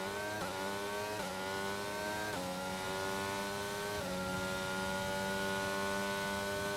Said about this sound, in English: The car engines do sound a bit different now as well because they've changed.